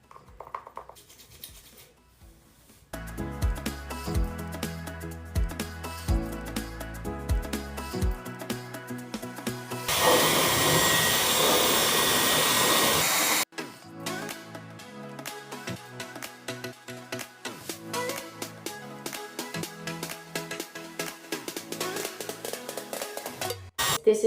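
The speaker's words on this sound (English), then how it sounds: "we're gonna go ahead and dry my hair before we start this one" Hair dryer drying hair, a broad steady blowing roar that holds for a few seconds among rustling and handling noises and backing music.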